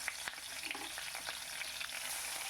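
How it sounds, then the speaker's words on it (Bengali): Pabda fish frying in hot mustard oil in a wok, a steady soft sizzle and crackle with small pops, heard alone without talk. "তেলটা যখন গরম হবে তখন আমি মাছগুলোকে ভালো করে ভেজে নেব"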